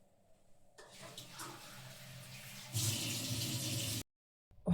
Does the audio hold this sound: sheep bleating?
no